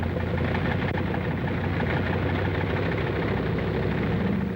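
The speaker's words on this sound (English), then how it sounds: "The sound of the engines warming up starts before dawn" Bomber aircraft engines warming up before dawn on an Aleutian airfield flanked by mountains: a steady, dense low roar with a constant throb, loud and continuous throughout, with no voices.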